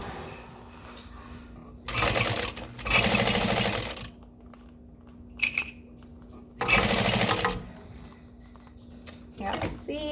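A sewing machine stitches a vinyl strap in two loud, close bursts of rapid stitching, each lasting a second or two, with quieter handling noise between them.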